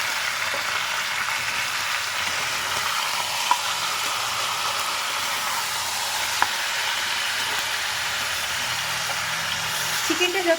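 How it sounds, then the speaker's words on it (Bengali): Chicken pieces fry in oil in a pan for chicken rezala, a steady loud sizzle running throughout while a utensil stirs them, with a couple of sharp scraping knocks against the pan. "চিকেনটা ভালো করে ভাজতে হবে।"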